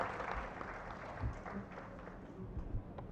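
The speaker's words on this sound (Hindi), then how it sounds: "आप लोग जोरदार तालियों से उनका स्वागत करें।" An audience at a Hindi book launch ceremony claps together, a soft, steady wash of applause lasting a few seconds at moderate distance.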